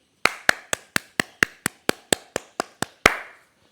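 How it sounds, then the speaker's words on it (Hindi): Exercise participants clapping for themselves after a session: about a dozen sharp, evenly spaced claps in a steady rhythm, close and clear, with a final clap after a slight pause and no talk. "अपने आप के लिए ताली बजाएं कि आपने बहुत अच्छा सूक्ष्म व्यायाम पूर्ण किया।"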